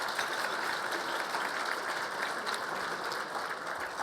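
A round of audience applause welcomes students and thanks sponsors at a formal event, a dense, even clapping that holds steady and fairly quiet throughout.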